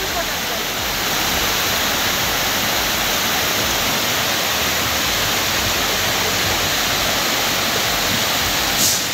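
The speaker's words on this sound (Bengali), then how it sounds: "কত যে ওপর থেকে একদম পড়ছে ঝর্ণাটা" A waterfall at Panchalingeswar, Odisha, in the rainy season, pouring down from a great height: a steady, loud, broad rushing roar that stays even throughout.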